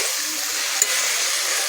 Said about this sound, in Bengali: সামান্য জল দিয়ে দিলাম, ভালো করে কষিয়ে নেব।